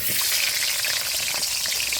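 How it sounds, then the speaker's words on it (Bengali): Sliced potatoes frying in hot mustard oil, a loud, dense, even sizzle filling the whole moment up close, with no voices over it. "তেলটা গরম হয়ে গেছে, এবার আলুগুলো ভেজে নিব, হালকা পাতলা করে ভেজে নিব।"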